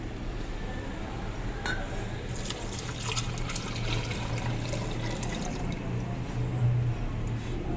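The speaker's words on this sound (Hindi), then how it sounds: "अब इसमें दूध डालेंगे।" Milk pours into a juicer jug while a jaggery milkshake is being made, a steady liquid splash and trickle that grows fuller partway through, with a faint low hum and a soft clink underneath.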